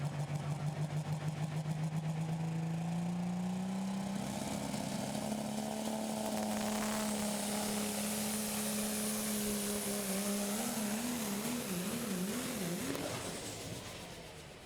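A super stock diesel four-wheel-drive pulling truck engine roars loud and close, its steady drone rising into a spooling whine with wavering pitch late in the pull before tapering off at the end.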